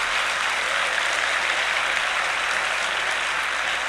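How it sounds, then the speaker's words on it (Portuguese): A church congregation at a large worship service claps in praise, producing a dense, even roar of applause that holds steady for several seconds at a fairly loud level with no speech over it. "Aplauda o Senhor."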